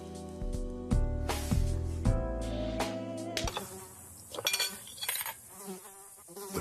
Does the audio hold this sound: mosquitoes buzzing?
yes